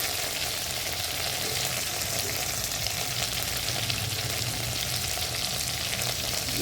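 Potatoes sauté in a pan with chili, cumin paste, turmeric and salt, producing a dense, steady sizzle with faint stirring scrapes throughout, close and continuous with no talking.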